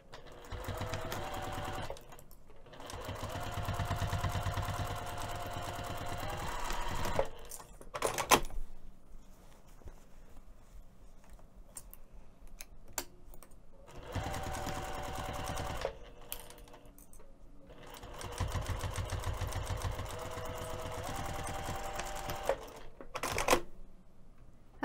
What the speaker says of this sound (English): we're going to take this over to the sewing machine and stitch those two edges down